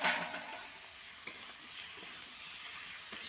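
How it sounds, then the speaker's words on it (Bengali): Vegetables with fried onion being stirred in a hot pan while cooking a chikni shak and prawn curry, a steady sizzle under scraping, with one sharp utensil knock near the middle. "সবজিটাকে আমি একটু ভালো করে নেড়ে নেবো।"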